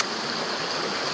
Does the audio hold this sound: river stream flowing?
yes